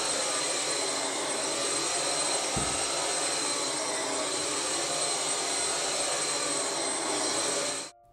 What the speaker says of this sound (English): I'm gonna take a minute to vacuum the floor here, and I'm just using my cordless Levoit vacuum.